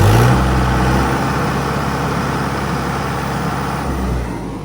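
A Mahindra 475 DI MS SP Plus tractor diesel engine runs loud and steady at a close idle, with a low, constant rumble and no voices.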